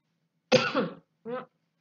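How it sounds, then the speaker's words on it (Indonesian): Two close coughs, a harsh longer one followed by a shorter one, in an otherwise quiet room. "Maaf ya, batuk."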